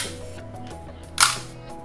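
A single quick mechanical snap from a camera shutter fired at fast speed, a crisp click standing alone over faint room hum.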